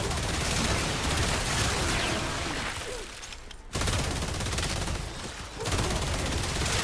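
Minigun fire in the video game Warframe, a dense, continuous roar of rapid shots filling the mix, broken by two brief pauses before resuming at full loudness.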